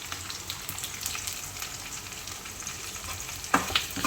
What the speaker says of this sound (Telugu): ఇంగువ, కరివేపాకు వేసిన తర్వాత బాగా ఫ్రై అయిన తర్వాత రైస్‌లో మిక్స్ చేసేస్తామనమాట మేము